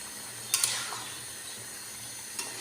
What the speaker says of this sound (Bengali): আরো ভালোভাবে কষানো হোক।